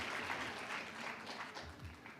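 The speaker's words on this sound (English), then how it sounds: "Round of applause for IBM." An audience at a hackathon final demo session applauds, giving a steady, soft wash of clapping heard from a distance throughout, with no clear speech.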